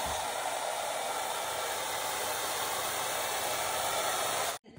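Hair dryer blowing on hair, a loud, steady close-up rushing whoosh with a constant motor whine that cuts off abruptly near the end.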